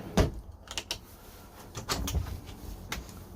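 A cutlery drawer in a 2022 Swift Elite 560 caravan slides open with a short rumble and soft knocks, followed by a few light clicks and rattles, close by in a quiet room.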